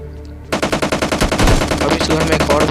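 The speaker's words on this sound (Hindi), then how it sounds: "फायरिंग आने लगती है सामने से" Rapid bursts of automatic gunfire come from the front in a video game, loud and rhythmic, starting abruptly after a brief quiet moment.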